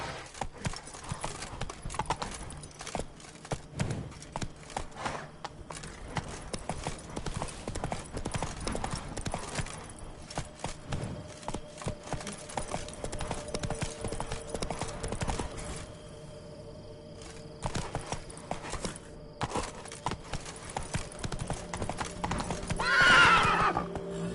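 A horse gallops in the Witcher 3: Wild Hunt video game, hooves clip-clopping in a fast steady rhythm through most of the stretch, with a loud neigh near the end over faint game ambience.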